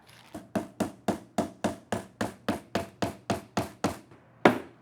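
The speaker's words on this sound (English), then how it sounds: "it's still got my hammer" A hammer taps wood in a steady, even series of about sixteen sharp strikes, close up, ending with one louder blow after a short pause.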